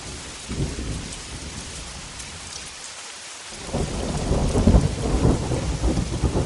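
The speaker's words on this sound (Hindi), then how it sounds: "फिर बादल गरजे और बारिश शुरू" Steady rain pours while thunder rumbles low and long, the storm swelling louder and heavier in the second half.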